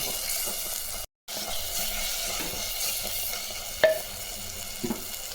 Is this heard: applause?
no